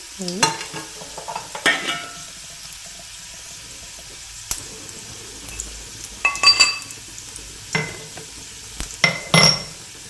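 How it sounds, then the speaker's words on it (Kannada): Cumin seeds dropped into hot oil for sabudana khichdi, giving scattered sharp crackles and pops in short bursts with quiet sizzling gaps between, close and fairly loud, no talking. "ಈಗೇನಾದ್ರಿ ಸ್ವಲ್ಪ ಜೀರಿಗೆ ಹಾಕೋತೀನಿ ರೀ, ಚಟಪಟ್ ಅನ್ಬೇಕು ರೀ"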